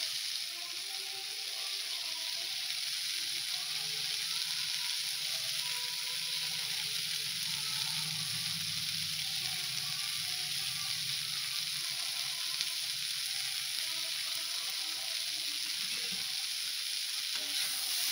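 Spice paste and boiled potatoes being stirred and fried in a pan for a spicy potato curry, giving a steady close sizzle with soft stirring scrapes throughout, no talking.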